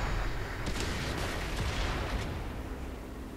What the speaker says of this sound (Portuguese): Fico olhando o tiro de artilharia em mim.